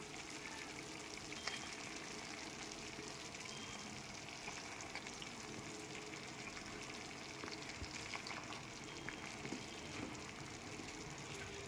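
Marinated chicken pieces with yogurt hit hot oil and spice paste for a chicken korma, setting off a loud, steady, crackling sizzle that holds without pause throughout.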